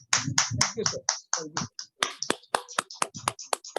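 Applause at a community meeting comes as a string of sharp, separate claps, a smallish group clapping close by in an uneven burst with short gaps.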